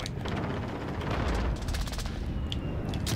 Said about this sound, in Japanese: 何の爆発だ、本当に。